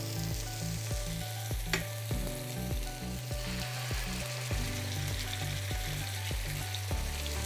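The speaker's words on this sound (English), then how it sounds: "Nice sizzle." Chicken thighs sizzling steadily in hot oil, a continuous close crackle with a few sharper pops and a low rhythmic mechanical hum underneath.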